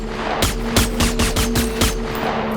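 Rapid gunfire at a gun range inside the TARDIS mod in the video game Bonelab, a loud, close fusillade of about eight evenly spaced shots over a steady electronic hum.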